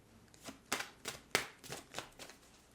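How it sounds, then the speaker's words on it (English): Tarot cards are shuffled in a series of crisp riffling bursts, about six quick flicks spaced evenly, soft and close in a quiet room. "Shuffling up the tarot."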